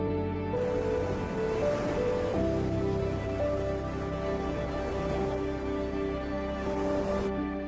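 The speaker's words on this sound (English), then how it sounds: "You hear the waves pressing against the land." Ocean surf washes steadily onto the black sand shore at Tjornuvik in the Faroe Islands, a continuous close roar of breaking water with sustained tones layered over it throughout.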